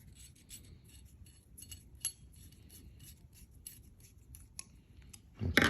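Set screws on a shop light clip are tightened with small, close scraping and clicking metal ticks in an irregular run, ending in a louder clunk.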